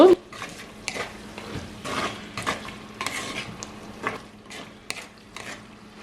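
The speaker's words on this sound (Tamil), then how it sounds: "இடக்கிட கிளறி பொரிய விடுங்க" Chicken hearts fry in a pan, with a soft sizzle under repeated scraping and stirring strokes from a spatula, close and fairly quiet, and occasional clinks of the utensil against the pan.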